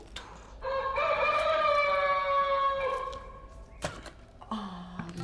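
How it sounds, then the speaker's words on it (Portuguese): A rooster crows once in a long, loud, drawn-out call with layered harmonics, followed by a sharp knock and a brief lower sound near the end. "Um galo."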